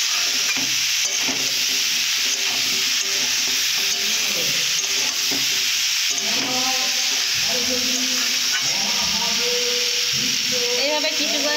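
Meat being stir-fried in a pan for a kosha-style dish, with steady scraping and clattering strokes of a spatula over a continuous sizzle.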